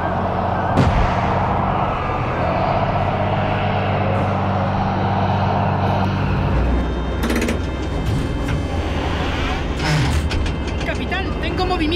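Battle in the World in Conflict video game, with a constant roar of tank engines and machinery broken by booming artillery and gunfire, loud and continuous, with voices calling out over the din.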